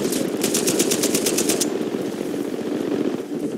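Rapid burst of automatic gunfire from a mounted gun in Uncharted 4, about a dozen sharp, evenly spaced shots over a steady loud rumble of game noise, then the rumble carries on alone.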